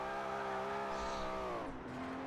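Nissan 300ZX drifting through a corner in Forza Horizon 4, a steady engine drone with layered harmonics that holds and then drops in pitch near the end, with a faint broadband tire squeal underneath.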